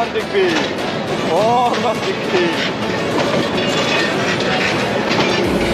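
Train wagons roll past with steady rumbling and clickety-clack of wheels on rails, loud and close throughout, with brief metallic squeals; a voice speaks over the passing train.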